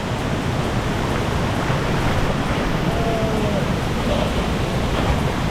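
Na Mueang Waterfall on Koh Samui roars as a steady, dense broadband wash of falling water, loud and continuous throughout with no pauses.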